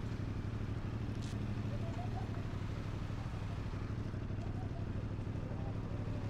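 A CF Moto CLC-450 motorcycle idles in traffic, giving a low, steady engine rumble with a faint clatter, continuous and fairly even at moderate distance, with no talk over it.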